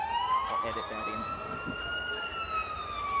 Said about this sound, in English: As you hear, the sirens are blazing, which means Wyatt Sutton is on his way to t